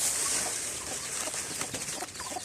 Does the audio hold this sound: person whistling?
no